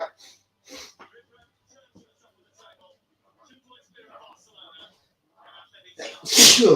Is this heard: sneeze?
yes